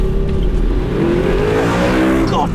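A £35,000 budget supercar accelerating hard off the line in a drag race against an E46 M3, engine note rising loud and close with rapid upshifts.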